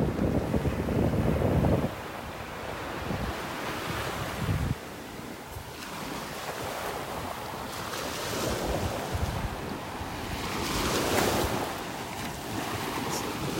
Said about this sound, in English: that wind is really blowing in my face now